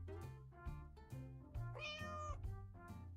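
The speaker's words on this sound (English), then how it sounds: "Cat." A cat meows in the video game Lost and Found Co, a clear drawn-out meow rising over a rhythmic, plucky game music loop.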